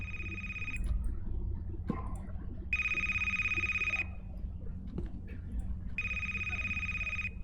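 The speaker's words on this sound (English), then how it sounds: "There's a phone ringing." A telephone rings in A Place, Forbidden, three bright electronic ring bursts spaced a couple of seconds apart over a low room rumble with faint clicks and soft sounds between.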